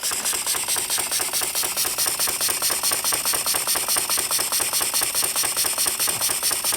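A miniature steam engine running at a fast, steady pace, its rapid mechanical chuffing and clattering repeating evenly and continuously, close and fairly loud with no talking.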